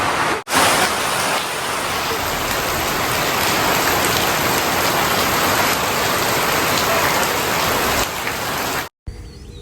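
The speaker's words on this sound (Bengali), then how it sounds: "বাইরে প্রচন্ড বৃষ্টি হচ্ছে" Heavy rain pouring down outside during a storm, a loud dense continuous roar of drops on surfaces that cuts off abruptly near the end.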